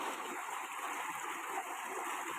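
Water rushing out of an opened valve into a channel, a steady broad hiss of flow heard close and fairly quiet, with no voices.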